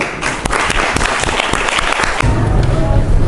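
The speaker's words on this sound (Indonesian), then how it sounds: "tepuk tangan untuk kelas ini" Classroom of students applauding, sharp individual claps merging into a lively burst of clapping that shifts into a lower rumbling crowd noise near the end.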